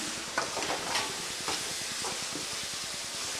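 Onion, tomato and ground curry leaf paste sautéing in a pan for curry leaf kuzhambu, a broad steady hissing sizzle with a few soft scraping stirs, close up and without talk.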